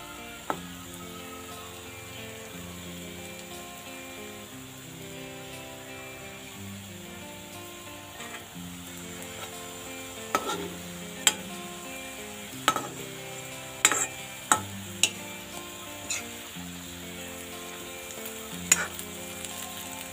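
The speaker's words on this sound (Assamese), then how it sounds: "এইয়া পিঠা বনাই আছোঁ দেই চাহ খাবলৈ।" Pitha rice cakes fry in a pan at home, giving a steady sizzle with scattered sharp scrapes and taps of a utensil against the pan in the later half, and nobody speaking.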